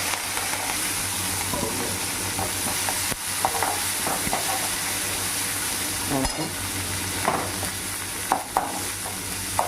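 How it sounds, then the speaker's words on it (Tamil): Onions and curry leaves frying in a pan for a beetroot stir-fry, a steady close sizzle with scattered stirring scrapes and spoon taps running throughout. "வெங்காயம் போட்டுறோம். எடுத்துட்டு வெங்காயம் போடலாம். கருவேப்பிலை போட்டுறலாம்."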